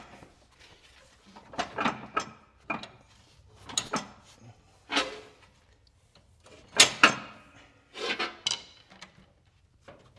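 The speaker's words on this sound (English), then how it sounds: "I'm gonna go ahead and lift the mower deck up in the front." Metal clanks, scrapes and thuds come in irregular bursts, close up, as the front of the mower deck on a Craftsman LTX1000 riding mower is lifted by hand, with quiet gaps between the impacts.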